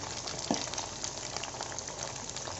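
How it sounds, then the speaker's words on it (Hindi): Soya chaap pieces frying in hot oil over a medium-low flame, a steady close bubbling sizzle with small crackles running evenly throughout, no voices. "तो अच्छे से हम इन्हें मीडियम लो फ्लेम पे फ्राई करेंगे"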